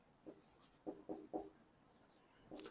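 Numbers being written by hand during a lesson on the Indian number system, a few soft scratchy pen or chalk strokes in short bursts, faint and close, with no speech.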